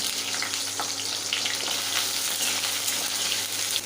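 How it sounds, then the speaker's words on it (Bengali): Brinjal pieces fry in hot oil for shukto, giving a dense, continuous close-up sizzle with faint spatters and occasional stirring, and no voices. "এরপর আমি বেগুনগুলো ভেজে নিচ্ছি তেলে।"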